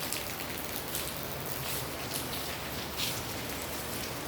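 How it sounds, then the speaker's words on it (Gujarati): Heavy monsoon rain falling in Jetpur near idle factories, an even, broadband wash of drops pattering on surfaces, steady and moderately loud with no talking. "ને અમે વરસાદની બધા મોજ માણે છે."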